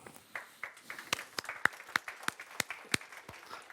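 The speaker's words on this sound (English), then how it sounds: "That's nice to get an applause before even one starts talking." Conference audience at a European cybersecurity keynote claps in scattered, uneven bursts, individual sharp claps standing out against a soft wash of lighter clapping in a large hall.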